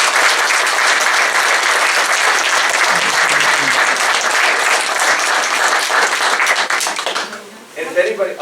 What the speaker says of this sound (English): So let's give Lea another round of applause.